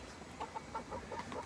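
Six backyard chickens, a Sex Link breed, give soft, low clucks in a steady series of short pulses, close by and fairly quiet.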